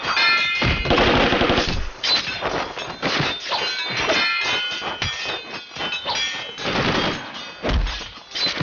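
Gunfire rings out in a Shanghai Bund period drama: repeated loud bursts of shots in quick clusters, some rattling like automatic fire, filling the scene with no talking over them.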